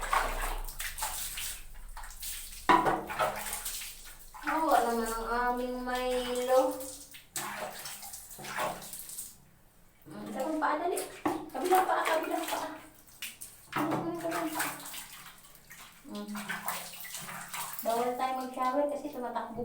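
Shower water runs over a dog being bathed, a hissing spray that starts and stops in bursts while someone talks and laughs nearby.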